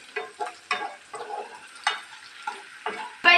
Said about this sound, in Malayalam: നമുക്കിത് ഇളക്കി കൊടുക്കാം. നമുക്ക് നല്ലോണം പച്ചച്ചവ മാറുന്നത് നമുക്കൊന്ന് മിക്സ് ചെയ്ത് കൊടുക്കാം.